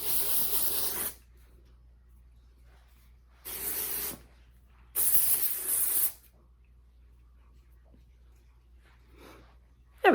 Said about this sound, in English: I really don't want dry shampoo all over my glasses. So we're going to give it a little spray.